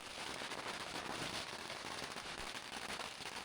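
Firecrackers bursting during a parade in an Old Town center, a faint dense crackling rattle of rapid pops heard from a distance, continuous throughout.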